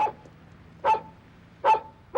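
Three sharp dog barks spaced apart, loud and fairly close, over a faint low background hum.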